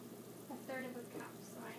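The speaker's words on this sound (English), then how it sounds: "Bubbling and boiling is good." Ghee simmering in a pan over medium-low heat, giving a soft, steady bubbling and faint sizzle, quiet and close.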